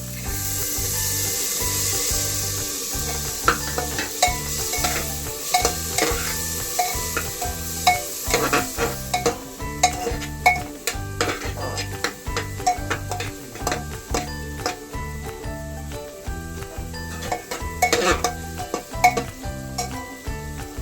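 Chopped carrots stir-fried in a pan for a chicken stew with onion and garlic: a continuous sizzle under brisk, rhythmic scraping and knocking of a utensil against the pan, close and fairly loud, with no talk.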